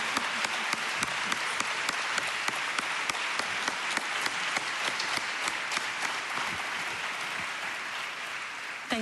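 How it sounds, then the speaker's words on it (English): A conference audience applauds steadily, a dense patter of many hands clapping at an even level for several seconds. "This is your applause."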